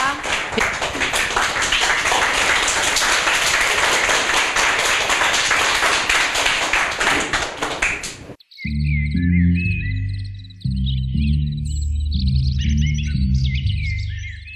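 An audience at a children's book presentation event claps steadily for about eight seconds, dense and even, then the applause cuts off abruptly into a short synthesized chime jingle.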